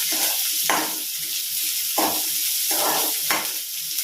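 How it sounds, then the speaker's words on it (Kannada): Large-cut onions frying in a pan for restaurant-style chilli chicken give a steady, close sizzle, broken by three evenly spaced scraping stir strokes. "ಇದು ಸ್ವಲ್ಪ ದೊಡ್ಡಗೆ ಕಟ್ ಮಾಡ್ಕೊಂಡಿರುವಂಥ ಈರುಳ್ಳಿನೂ ಇದಕ್ಕೆ ಆ್ಯಡ್ ಮಾಡ್ಕೊಂಡಿದ್ದೀನಿ."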